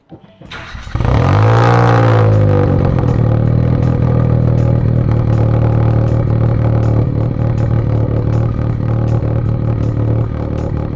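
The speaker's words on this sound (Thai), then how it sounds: "เสียงมันจะไม่เต็มสูบ" A car engine idles roughly after starting, misfiring from faulty ignition coils, spark plugs or injectors, a steady low drone punctuated by regular uneven pops and stumbles, loud and close.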